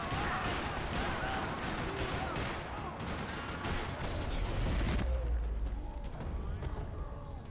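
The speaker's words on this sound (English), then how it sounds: "Another parking lot rattling with gunfire." Gunfire clatters through a parking lot in the video game Max Payne 3, dense overlapping shots and bursts rolling on steadily for several seconds under a busy, noisy mix, with a low rumble swelling near the end.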